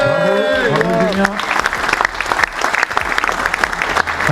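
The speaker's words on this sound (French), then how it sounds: "On peut l'applaudir très fort." Applause breaks out at a sea kayak fishing awards ceremony, loud dense clapping from a crowd, with a voice and cheering over the opening before the clapping carries on alone.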